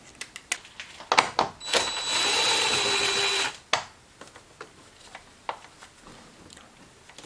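A handheld power tool spins out a bolt on a Ford Escape engine air filter housing in one sustained whirring burst of about two seconds. Scattered clicks and knocks of handling come before and after it.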